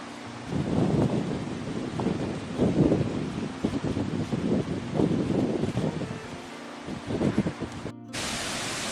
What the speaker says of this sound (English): A little bit breezy.